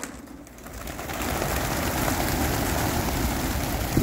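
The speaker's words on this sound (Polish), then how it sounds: "O i gołębie wystartowały." A burst of wings as a flock of racing pigeons takes off together at the start of a race flight, rising flutter over steady outdoor background noise, with a few faint coos.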